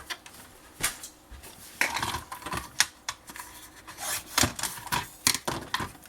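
Sharp, irregular snips and clicks come from cutting off excess paper while making a scrapbooking box, close and fairly quiet, with small taps and rustles between the cuts.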